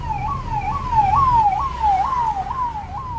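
A wailing ambulance siren rises and falls in a steady repeating sweep, loud and close, with faint road noise underneath.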